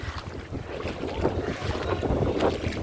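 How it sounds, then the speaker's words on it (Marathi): A river in flood rushes hard with a deep, continuous roar and surging swells, heavily mixed with wind buffeting the microphone. "इकडे महापुरामध्ये नदी खूप जोराने वाहते"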